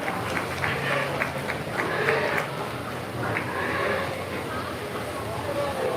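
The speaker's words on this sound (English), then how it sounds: "Let's give this class a great round of applause as they head back to the ring." A crowd at a county fair market hog show class claps and cheers in a steady wash of applause over crowd murmur, lasting throughout.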